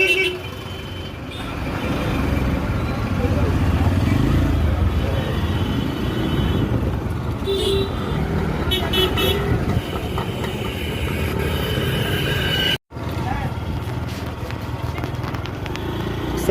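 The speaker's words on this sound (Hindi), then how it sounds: "कितना जैम है यहाँ पे।" Congested road traffic heard while riding a two-wheeler, a dense rumble of engines with scattered horn toots, steady and loud, with one brief dropout near the end.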